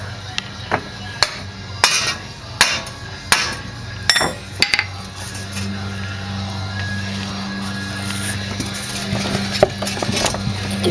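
Sharp metal hammer blows strike a stuck axle on a rusty Subaru, about ten spaced clanks in the first few seconds, followed by quieter shop noise and faint clinks.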